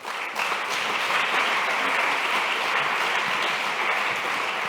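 Sustained audience applause fills a conference welcoming ceremony, a dense, steady clatter of many hands clapping at close range with no talk over it.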